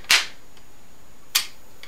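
A 5.56 rifle fired indoors, two sharp loud reports about a second and a quarter apart, each with a short ringing tail in the room, and a fainter click near the end; no talking.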